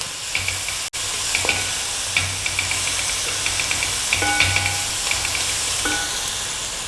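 Garlic frying in a pan for fish curry gives a steady sizzle and hiss, with occasional stirring scrapes and soft clinks, close and constant throughout.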